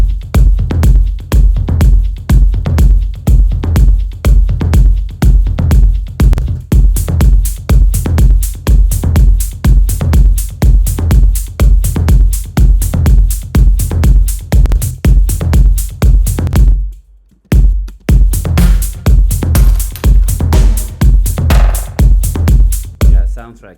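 Melodic techno drum pattern with a steady four-on-the-floor electronic kick, tight percussion hits and hats in a driving loop, played loud with a brief drop-out near the end before the beat resumes.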